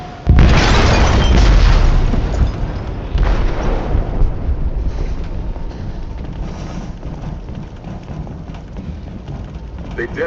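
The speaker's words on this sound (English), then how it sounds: "They detonated an explosive in the hold." A loud, sudden blast detonates in the hold of a ship in the video game Detroit Become Human, a heavy boom followed by a second impact and a long rumbling, rattling tail that slowly fades while a voice speaks faintly beneath.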